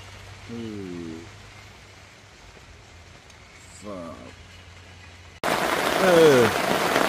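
Rain pours steadily at a rainforest campsite as someone speaks a few short phrases in Malay, the downpour growing suddenly louder and closer toward the end.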